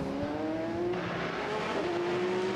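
Le Mans GT race cars pull out of the pit lane side by side, their engines droning together as steady rising tones, close and loud throughout with a continuous mechanical roar and no talk.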